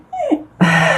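A dog gives a short high whimper that slides downward, then a louder, sustained whiny yelp, both close and clear within about a second, with no talking.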